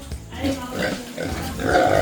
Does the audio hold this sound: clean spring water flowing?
no